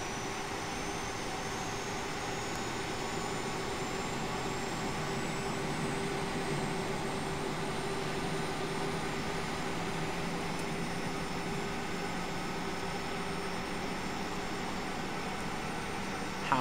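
Steady, loud roar and whine of a Jet2 airliner's jet engine in the flight simulator X-Plane, heard close as if from a cabin window, continuous and even throughout with no talk.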